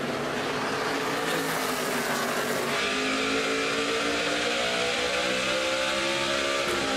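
NASCAR Sprint Cup cars race at Richmond, a dense, continuous roar of several engines running together at full throttle, loud and steady with shifting pitch as the pack passes, no talk audible.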